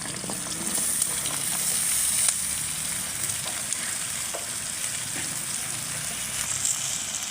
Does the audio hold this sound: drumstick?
yes